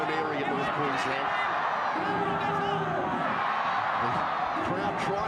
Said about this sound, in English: The crowd trying to get behind them, trying to lift them